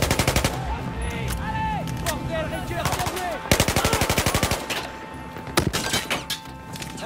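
Rapid automatic gunfire bursts and single shots in the video game Battlefield 4, dense and loud, with a few pauses between volleys.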